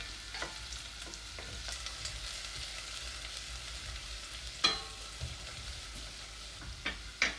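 Onions frying in a pan for Turkish menemen, a vegetarian breakfast, give off a steady, moderate sizzle, with a few sharp utensil clicks and taps scattered through it and no voices.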